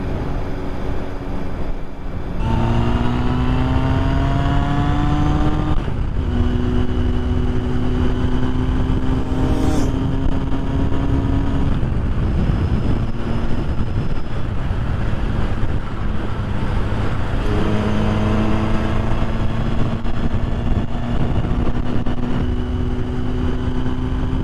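Honda CB750 K project motorcycle being ridden, its engine note rising through several gear changes with steady wind buffeting the microphone, loud and continuous throughout.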